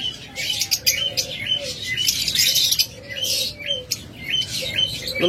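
Many small birds chirp and tweet continuously in quick, overlapping bursts, close by, with a low steady background hum.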